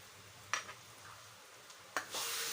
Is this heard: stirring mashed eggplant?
yes